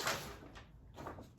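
A door is opened indoors to let a puppy in: a soft, faint rush of movement followed by a couple of quiet sliding and brushing sounds against a dull room hiss.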